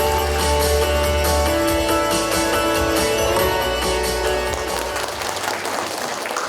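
A crowd at a book launch event applauds to welcome the Busan city council chair, a steady wash of clapping mixed with loud, sustained music throughout.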